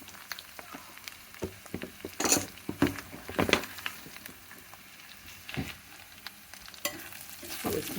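Potatoes and amaranth leaves fry in a pan as chili powder, coriander and turmeric are mixed in, with irregular scraping stirs and clattering spoon strikes over a faint, continuous sizzle, close and moderately loud.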